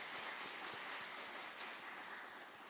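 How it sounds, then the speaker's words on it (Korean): Congregation members at a Wednesday church service in Bucheon applaud the worship team with a thick, even patter of clapping that holds steady throughout. "그리고 경배 찬양팀을 위해서도 축복하는 박수 하겠습니다."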